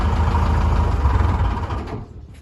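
A narrowboat's diesel engine idles with a steady low, throbbing chug, then is switched off and dies away in the final half-second, leaving near quiet. No one speaks.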